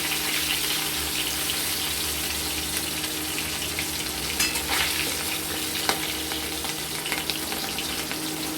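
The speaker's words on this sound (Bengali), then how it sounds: "মাছটাকে আমরা এটুকু একটু হালকা ভেজে নেব" Hilsa fish shallow-frying in oil, a steady crackling sizzle running throughout with a few faint clinks of a utensil, close and even in level, no talking.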